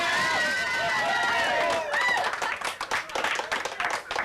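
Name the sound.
crowd cheering and applauding for Robert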